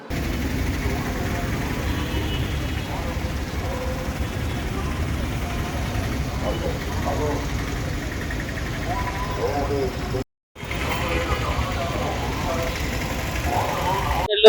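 Motorcycle engines idle and rumble steadily at a bike rally of municipal corporation and election staff in Nellore, a dense continuous drone with voices mixed in and a brief cut near the end.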